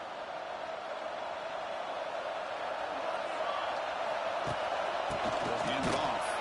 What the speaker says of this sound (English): battling this defense and the crowd noise. Just underway, and this home crowd is fired up